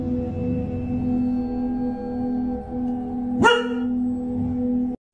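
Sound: dog growling

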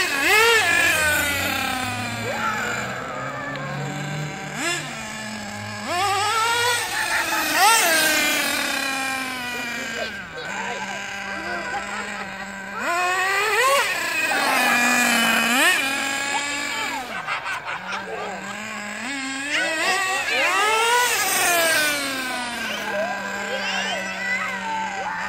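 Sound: Duratrax Raze 1:8 scale nitro RC buggy engine running

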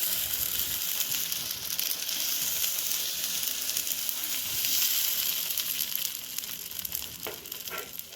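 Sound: oats dosa batter sizzling on a hot pan

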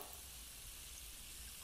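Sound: food frying sizzle in a cooking video game

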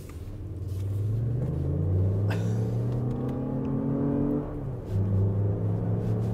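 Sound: 2024 Lexus RX 500h F Sport driving in sport mode

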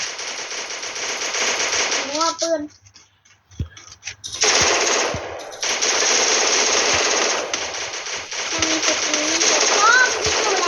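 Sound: Thompson gun firing in the video game Free Fire

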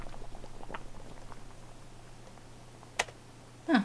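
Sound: pot boiling in The Witch's House video game

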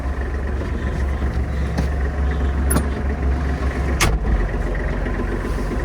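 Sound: Kubota GL-25 mini tractor engine running as it sets off

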